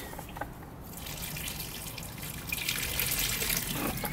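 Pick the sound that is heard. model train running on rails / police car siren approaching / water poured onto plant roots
water poured onto plant roots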